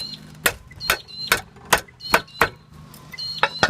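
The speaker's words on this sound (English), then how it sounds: "Just knock that with a hammer." A hammer strikes a metal skylight bracket on a tile roof, sharp metallic knocks ringing out about eight times in an irregular rhythm, close by, each strike followed by a brief ringing decay.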